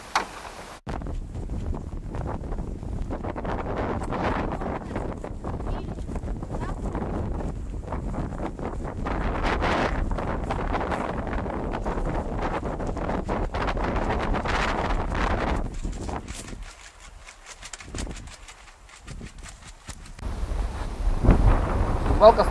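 Steady wind at a night fishing spot buffets the microphone in a continuous rumbling roar, easing briefly near the end before gusting back up loudly.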